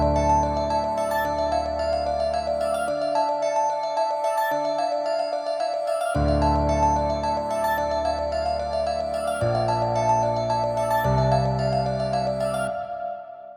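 A halftime-processed beat built in FL Studio, with a bright main melody and piano over deep bass hits, looping in sections with brief drops in the low end before fading at the end.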